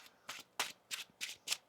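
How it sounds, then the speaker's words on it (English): Tarot cards being shuffled by hand, five quick riffling bursts in a steady rhythm, close and fairly soft, with no talk. "One more shuffle here"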